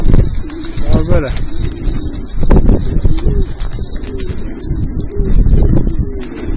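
Pigeons coo repeatedly nearby in low, throaty bursts while someone talks loudly over them.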